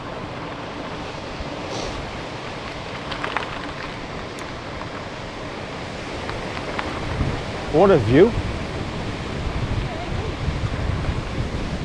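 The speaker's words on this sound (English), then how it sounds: "Quite rough, the waves. It is quite windy the day." Constant wind buffeting and rushing surf from rough sea waves on a UK coastline fill the background, with someone speaking briefly over the noise.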